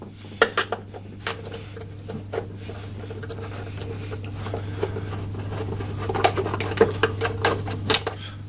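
Screws being backed out of the black plastic cover on a Hyundai HYM460SPE self-propelled electric push-button-start lawn mower: scattered light metallic clicks, taps and scrapes of a screwdriver and handling over a steady low hum, with no talking.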